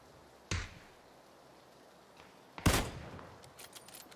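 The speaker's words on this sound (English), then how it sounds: "Someone's shooting at me." Two separate gunshots in the battle royale game PUBG, Kar98k war mode: one sharp crack early on, then after a pause a louder, closer shot with a ringing tail and faint echoes.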